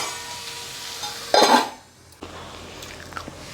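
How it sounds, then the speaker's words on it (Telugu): Onions frying with salt in a covered pan: a low, steady sizzle with a short, louder burst of stirring or lid clatter in the middle, then a quieter simmer. "ఉల్లిపాయ బాగా ఏగనిస్తాను."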